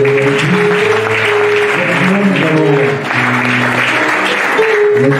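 A church congregation applauding, dense continuous clapping with a musical tone running underneath and voices mixed in throughout.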